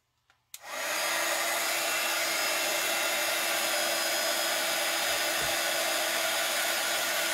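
A hair dryer switches on with a click and then blows a steady, loud whooshing roar while drying paint on a desk drawer, continuous and close.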